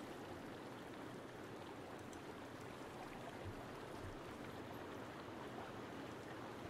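A river flowing in the video game Sons of the Forest, a steady faint rushing wash of water that holds evenly throughout, with no voices over it.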